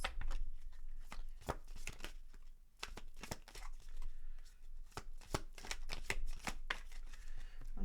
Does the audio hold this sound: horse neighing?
no